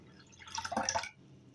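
Water is poured into a pot for pea soup, a brief splashing, trickling burst that swells and stops within about a second against a quiet kitchen background.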